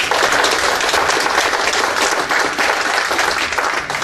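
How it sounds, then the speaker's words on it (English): Loud, dense applause from a conference audience for panelists at an early adopter recognition event, steady and sustained with no talk over it. "Give them a round of applause."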